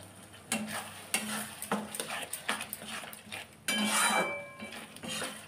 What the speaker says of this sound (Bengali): মশলাটাকে কিছুক্ষণ ধরে কষবো